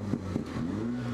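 A turbocharged car with a Borla axle-back exhaust revs briefly, a close, loud engine drone rising in pitch with a couple of quick pops at the start.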